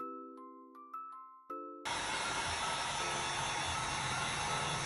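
A heat gun blasts a steady, even hiss as it heat-sets restored Adidas NMD shoes, coming on abruptly after a few soft chimes and holding constant at close range.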